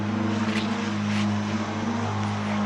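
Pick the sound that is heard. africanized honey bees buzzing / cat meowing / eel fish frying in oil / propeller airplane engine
propeller airplane engine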